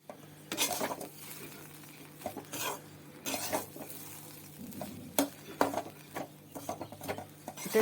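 Semolina with vegetables sizzles in a hot pan as a spoon stirs and scrapes steadily against the metal, with frequent clinks over a continuous frying hiss, close and with no talk.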